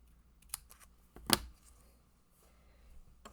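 Paper trimmed at an angle for a slimline birthday card, with quiet snips and clicks and one sharper cut near the middle, all faint and close.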